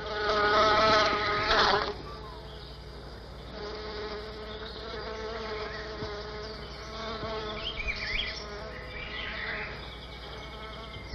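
Bee buzzing around orchids, a steady insect drone with a louder close pass at the start, then continuing at moderate level with faint higher whines overhead.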